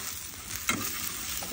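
Green chillies, curry leaves, cumin and turmeric fry in hot oil in a pan with a soft, continuous sizzle and one brief stirring scrape.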